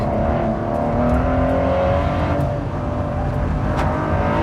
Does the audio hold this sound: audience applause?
no